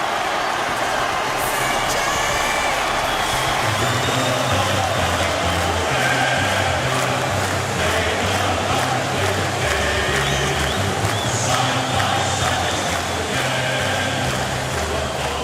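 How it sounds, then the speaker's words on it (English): Collingwood Footy Club fans roaring in a packed stadium at an AFL match: a dense, steady crowd roar that holds at a constant loud level throughout, with no distinct voices. "you'll hear the roar as the fans of the Collingwood Footy Club see their starting 22"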